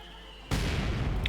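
Mortar bombardment in the World War II strategy game Company of Heroes 2 lands as a sudden loud boom, followed by a sustained rumbling blast that fills the rest of the short moment.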